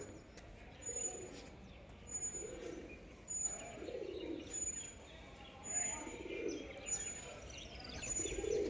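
Pigeons coo repeatedly in soft, low, rolling calls every second or so, close by at an old temple complex where they are fed, with faint chirps and some background voices.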